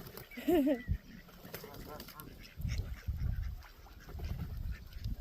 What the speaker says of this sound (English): There's a lot of male ducks, isn't there?